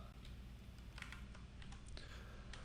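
Faint, quick keystrokes tapping in irregular bursts on a computer keyboard, close by over a low steady background hum.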